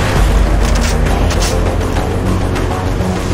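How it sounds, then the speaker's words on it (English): Explosions in the Far Cry 4 video game roar as a loud, continuous, rumbling boom that holds steady for several seconds with no talking. "Let's hear some explosion."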